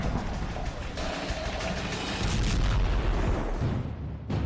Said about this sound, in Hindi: जब 22 किलो के वॉरहेड में धमाका होता है तो देखिए कितनी बड़ी तबाही होती है